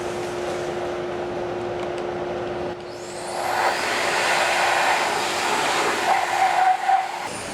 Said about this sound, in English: I'm going to turn the dust collector on for a minute just so I get that out of there.